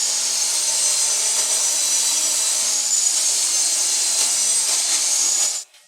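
A power saw cuts through plywood side panels for a small storage cabinet, a steady, loud high whine running continuously for several seconds before stopping abruptly at the end.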